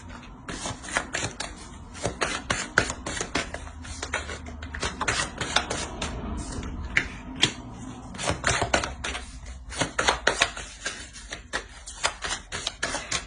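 Playing cards are handled and laid out on a table, making a continuous run of close, crisp flicks and taps with an irregular rhythm and no talking.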